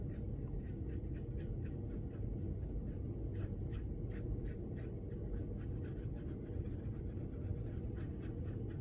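Colored pencil rubs steadily over paper as the color is burnished in, a soft continuous scratchy friction with faint repeated strokes, quiet and close with no speech.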